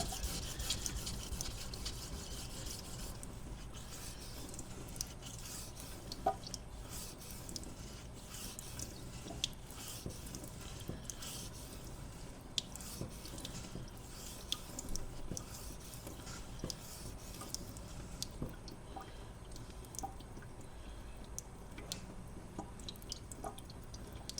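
An IKEA kitchen knife is sharpened on a wet whetstone, giving quiet, continuous gritty scraping strokes with faint wet clicks, repeated steadily for a long stretch with no voices.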